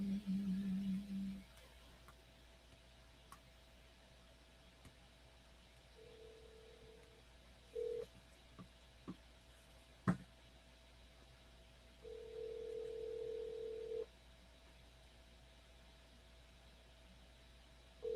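Mobile phone dialing: short tone beeps come and go against a faint steady hiss and near-silence, ending with a brief click.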